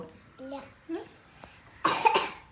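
A small child coughs in a close, harsh burst of two or three quick coughs near the end, after a few soft, brief child vocal sounds.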